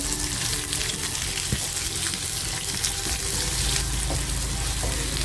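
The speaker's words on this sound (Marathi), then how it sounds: "आता मी तेल तापत ठेवले कांदा टाकते" Onion frying in hot oil for a spicy Kolhapuri mutton curry, a steady dense sizzle and crackle running evenly throughout with faint clinks, no talking.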